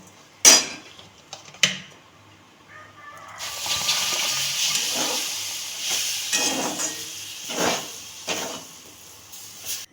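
Two sharp metal taps, then a loud, sustained sizzle bursts up as water hits hot oil, hissing continuously with a few clanks of a utensil.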